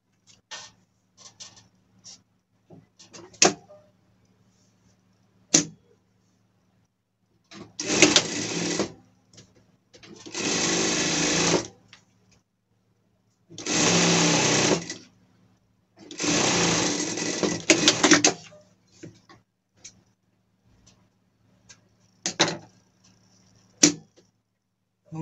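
A sewing machine stitches elastic onto a pet outfit in four loud bursts of rapid, steady needle chatter, each a couple of seconds long, separated by pauses with scattered clicks and handling taps.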